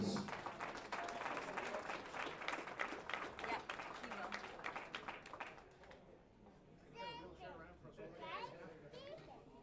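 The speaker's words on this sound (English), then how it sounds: "Big round of applause for Mr." A powerlifting meet crowd applauds the 120 kg class gold medal winner with dense, distant clapping that fades after several seconds, followed by voices talking.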